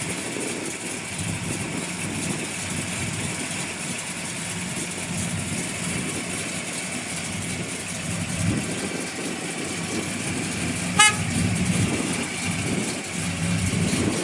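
A 1967 Pontiac GTO with ceramic-coated Hooker headers and Flowmaster dual exhaust idles in a low, steady rumble, with a slight swell in revs midway and a brief click near the end.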